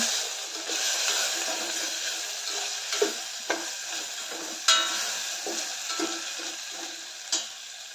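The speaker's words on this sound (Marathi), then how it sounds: "आता ह्यामध्ये अर्धा चमचा हळद घालते हळद घालून मिक्स करून घेते सर्व" Softened tomato with turmeric stirred in a frying pan over a steady sizzle, with a spoon scraping and occasionally tapping the pan at a close, moderate level.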